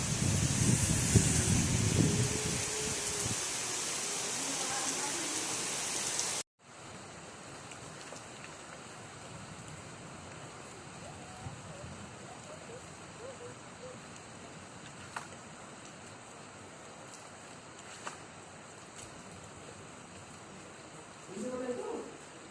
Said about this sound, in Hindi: इतनी तेज से बारिश हो रही है